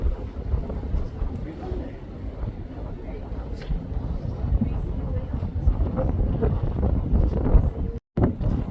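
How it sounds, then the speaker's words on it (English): Steady wind buffeting a microphone on an open lookout during a hiking trail walk, a continuous low rushing roar with gusty swells and a brief dropout near the end. "It's windy"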